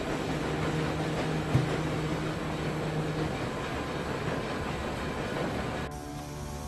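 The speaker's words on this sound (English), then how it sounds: "The train's gears grind to a halt." A loud, steady mechanical rumble and grinding of train gears in the puzzle game Peregrin, continuous throughout before cutting to a quieter hum as the train halts.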